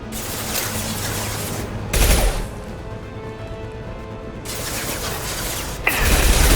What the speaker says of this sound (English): That fuel tank's coming loose! Shoot it! Bring it down on top of them!